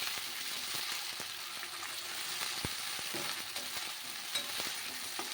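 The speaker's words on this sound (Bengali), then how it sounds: "দিয়ে এবার আবার নেড়ে চেড়ে ভালো করে মশলাটাকে কষিয়ে নেব।" A ground paste of chilli, coriander and cardamom stirred and fried in a pan for prawn malaikari, a soft continuous sizzle with occasional spoon scrapes and taps, fairly quiet and with no talk.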